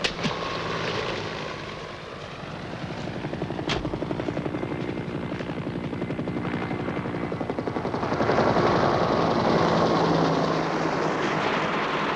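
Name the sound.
helicopters flying overhead in a war movie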